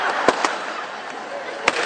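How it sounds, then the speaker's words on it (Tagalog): New Year fireworks exploding: three sharp, fairly close bangs spaced irregularly over a steady hiss of distant crackling and crowd noise. "Tapos na ba yung fireworks?"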